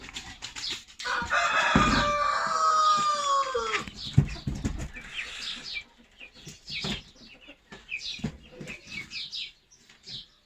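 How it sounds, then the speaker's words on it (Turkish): Two roosters: one crows loudly and nearby, followed by clucking and softer calls from other fowl in a barnyard. "Hemen bir artı bir değil de iki tane horoz"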